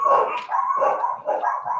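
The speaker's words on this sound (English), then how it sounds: "Dogs outside are going crazy if you hear barking." Dogs barking outside, several loud, close yelping barks in quick bursts with short gaps between them, and no talking.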